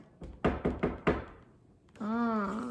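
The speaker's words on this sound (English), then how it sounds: "there was a knock at the door" Knocking at a door as a storybook sound effect: four loud, evenly spaced knocks, then a short pause before a sustained tone begins.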